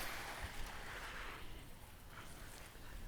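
A garden hose sprays water over a bed of soil in sweeping passes, making a steady, broadband rushing wash that swells and eases slightly as the stream moves across.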